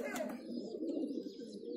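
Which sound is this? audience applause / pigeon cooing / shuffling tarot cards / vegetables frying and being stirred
pigeon cooing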